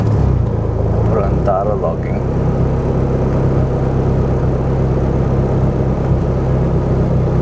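Car engine idling steadily in a garage-like setting with a low continuous rumble throughout, while people talk close by over it.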